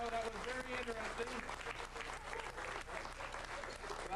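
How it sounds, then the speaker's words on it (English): Warm round of applause from a brunch crowd at a magicians' club Valentine's Day gathering, steady dense clapping with some voices and cheers mixed in throughout. "Another big round of applause for John"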